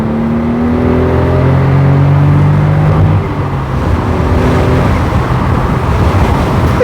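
A Smart Roadster W452 small sports car revs loud and close on a real road, its engine note rising in pitch through the gears, then giving way to a rushing road and wind roar.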